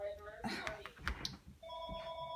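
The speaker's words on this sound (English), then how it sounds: "Why does the phone always ring during my..." A home telephone rings indoors. Its electronic bell trills in two bursts, at the start and again at the end, while someone talks over it between the rings.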